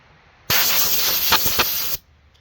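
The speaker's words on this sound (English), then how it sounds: "So I am just gonna start in on it with the air nozzle." Compressed air nozzle blowing dust off a saw during maintenance, a loud steady hiss lasting about a second and a half with a couple of brief sputtering bursts, alone.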